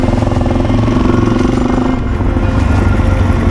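A Suzuki DRZ400 motorcycle engine runs loud and close throughout, a steady thumping single-cylinder drone with rhythmic pulsing as the bike pulls away.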